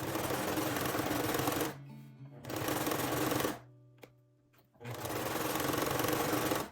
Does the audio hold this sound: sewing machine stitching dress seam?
yes